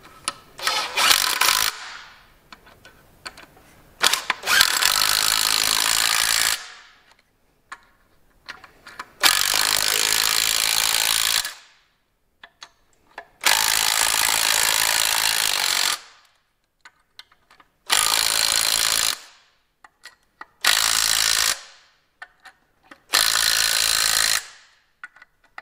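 An air nut gun, or impact wrench, hammers at nuts on a Massey Ferguson 135 Multipower tractor gearbox in six or seven loud, close bursts of a few seconds each, separated by brief silences.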